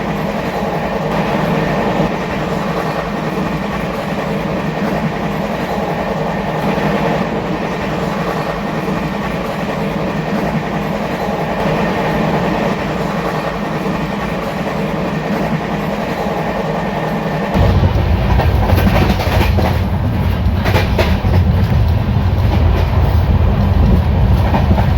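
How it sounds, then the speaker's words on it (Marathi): The 12158 Hutatma Express runs at high speed through Moho station, a loud, continuous rumble and rattle of wheels on rails heard from aboard the train, growing heavier and louder near the end. "एकदम हाय स्पीडने मोहो स्टेशन स्किप."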